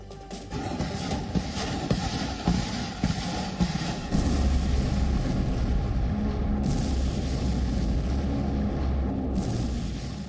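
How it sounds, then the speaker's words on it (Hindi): Rumbling, continuous barrage of missile, bomb and shell blasts in the Ukraine war, loud and dense with little pause, deepening into a heavier low roar partway through. "मिसाइल, बम और आसमान से गिरते गोले।"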